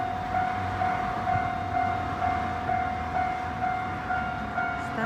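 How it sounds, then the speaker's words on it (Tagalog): A train approaches at a closed crossing, with a steady rumble and a sustained tonal whistle or bell-like hum over rhythmic pulses, heard from a moderate distance. "Kasi yung train is coming."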